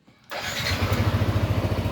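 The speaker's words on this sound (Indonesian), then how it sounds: "motor baru bisa hidup" A Yamaha NMAX 155 scooter engine cranks and catches after a brief quiet moment, then settles into a close, steady, throbbing idle.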